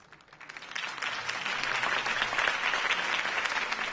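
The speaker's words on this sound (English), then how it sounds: "If only Mr. Wayne, my campaign's largest backer, could have heard that applause" Applause from a crowd in the video game Batman: The Telltale Series swells in and holds steady, a dense wash of clapping heard at a moderate distance.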